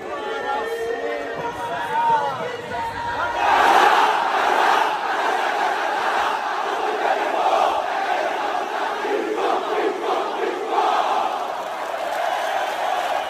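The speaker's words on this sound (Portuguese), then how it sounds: "a torcida do Esporte mostrou a sua força e fez a festa" Sport Recife football supporters sing and cheer together in a stadium, a dense crowd roar that swells after a few seconds and holds steady, with chanting voices layered throughout.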